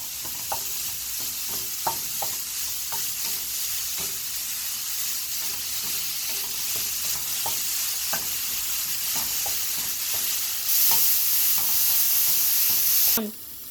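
Eggplant and peppers sauté in a hot pan with salt and black pepper, giving a loud, continuous sizzle. Regular scraping strokes of a spatula stir the vegetables, and the hiss swells briefly near the end.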